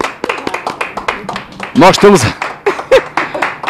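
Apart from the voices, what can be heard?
audience clapping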